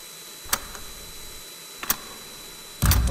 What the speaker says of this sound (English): then we have clock sound